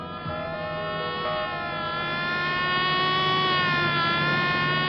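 A siren wails continuously with a rising and falling tone in a scene from the Hindi film Shaan, steady and fairly loud, with no voices over it.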